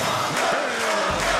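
A video game crowd in Donkey Kong Jungle Beat cheering and roaring, a dense, continuous wash of many voices that stays loud through the short moment.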